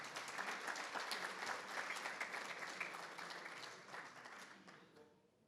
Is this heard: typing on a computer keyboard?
no